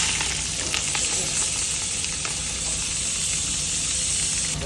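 Onion fries in hot cooking oil for pork bistek, a close, continuous bright sizzle that stays steady and loud from start to finish.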